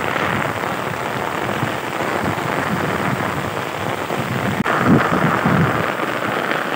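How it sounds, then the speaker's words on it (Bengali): Heavy rain pours down over a garden in a dense, continuous roar, with a brief sharp crack midway and a slightly louder patch after it. "এখন মোটামুটি মুষলধারে বৃষ্টি পড়তেছে।"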